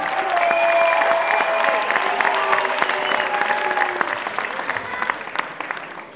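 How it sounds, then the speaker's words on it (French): Sustained, loud crowd applause fills a breakdance battle hall, dense clapping steady throughout and tapering slightly near the end, with faint voices mixed in. "On les applaudit bien fort, s'il vous plaît."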